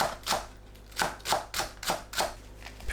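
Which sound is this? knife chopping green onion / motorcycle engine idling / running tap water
knife chopping green onion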